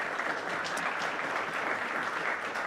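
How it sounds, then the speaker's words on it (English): A crowd applauds at a capital project update gathering, with steady, dense clapping that stays loud and even from start to finish. "I just want to give them a round of applause for their work."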